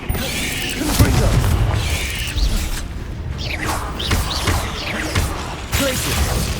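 Confringo blasting spell in Hogwarts Legacy, loud booming explosions and creaking, crashing impacts layered with whooshes in a chaotic battle mix, with a voice speaking over it.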